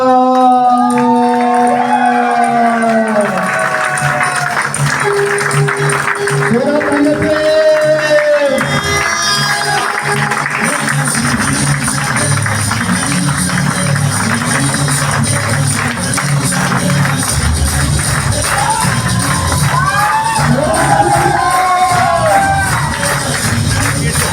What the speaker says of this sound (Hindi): जोरदार तालियों से स्वागत करें प्लीज।